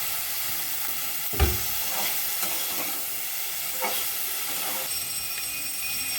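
Ground turmeric and cumin frying in a pan with oil, a steady hiss of sizzling with a few soft scraping knocks as the spices are stirred, fairly close and continuous.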